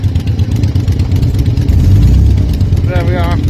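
A Royal Enfield motorcycle engine at an outdoor cars and bike show, a steady low throbbing idle swelling as it pulls away, heard under someone talking nearby, with a warbling tone near the end.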